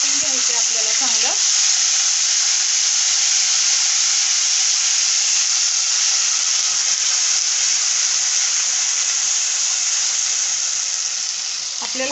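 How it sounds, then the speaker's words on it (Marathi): Ground masala sizzling steadily in hot oil as it is sautéed for masvadi, a continuous close, bright frying hiss that holds even throughout with no talk. "आपल्याला हा मसाला तेल सुटेपर्यंत परतायचा आहे चांगला"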